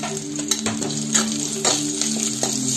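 Garlic and ginger sautéing in a pan, a soft continuous sizzle broken by a few clinks and scrapes of a spoon stirring against the metal, close and fairly quiet.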